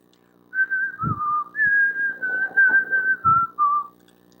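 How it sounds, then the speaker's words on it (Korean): A man whistles a hymn melody alone, a clear sustained tune of held and gliding notes over roughly three seconds, with a few soft low bumps of handling or breath beneath. "휘파람을 불면서 찬송을"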